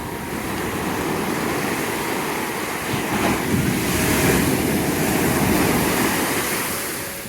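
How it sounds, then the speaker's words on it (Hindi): Sea waves on Puri beach in Odisha wash in with a steady, broad roar of surf, loud and continuous throughout, swelling slightly in the middle with some wind rumble and no voices. "अगर आप शांतिपूर्ण वातावरण में लहरों की आवाज सुनना चाहते हैं तो यह बीच आप जरूर आइएगा।"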